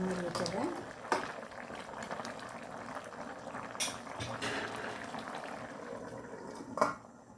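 Chicken simmering in coconut milk in a pot for chicken varuval, a steady low bubbling with a few sharper clinks and knocks, close by and moderately quiet.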